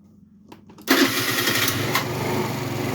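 A 50cc moped engine fires up after a battery replacement: a few brief cranking clicks, then the engine catches abruptly and settles into a loud, steady close-up idle.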